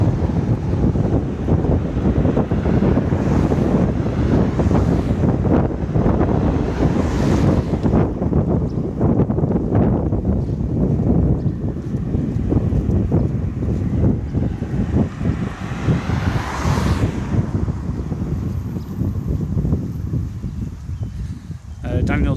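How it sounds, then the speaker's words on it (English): Strong wind blowing down a road during a walk toward Goose Green roars and buffets the microphone steadily throughout, with a voice talking over it. "It's all the wind's being funneled down this road right now."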